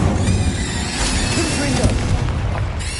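A fire spell bursts out in Hogwarts Legacy, a dense roaring whoosh of flame with rumbling booms, loud and continuous for a few seconds.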